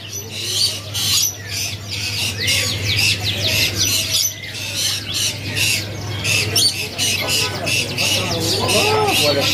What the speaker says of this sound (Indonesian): penampakan stok kenari loper yang masih bahan ataupun yang masih anakan yang warna cerah